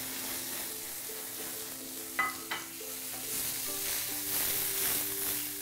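Blanched asparagus sautés in butter and olive oil, giving a soft, steady sizzle with a few light utensil taps and stirring scrapes, close but quiet, with no talk.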